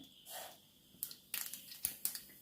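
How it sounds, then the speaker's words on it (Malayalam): Mustard seeds hitting hot coconut oil in a kadai, giving faint, scattered crackles and sharp pops that grow denser over a couple of seconds, quiet and without talk. "അതിലേക്ക് നമുക്കൊരു 1/4 ടീസ്പൂൺ കടുക് ചേർത്ത് കൊടുക്കാമേ."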